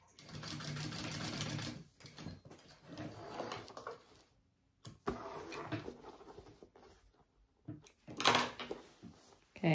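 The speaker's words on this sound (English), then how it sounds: "I just did a second row of stitching right there just to help it out a bit." A sewing machine runs a second row of stitching along a bag seam in close, quiet bursts of rapid whirring separated by pauses, with soft handling noises between the runs.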